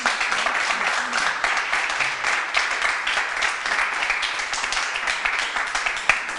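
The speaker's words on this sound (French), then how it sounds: "On va l'applaudir." Audience applause for a contestant in a televised spelling contest: steady, dense clapping throughout, moderately loud, with a few voices faintly mixed underneath.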